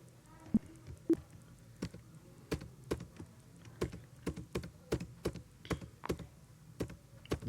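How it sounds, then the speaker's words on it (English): Computer keys clack in an uneven, fairly steady rhythm, about a dozen presses close by at low volume, with no talking over them. "Just you go on pressing enter."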